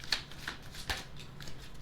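A deck of tarot cards is shuffled by hand, soft riffling and papery flicks in a few quick bursts, close and quiet with no talking.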